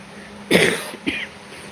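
Two harsh coughs from one person, a loud burst followed by a shorter, weaker one about half a second later, close and clear against quiet background.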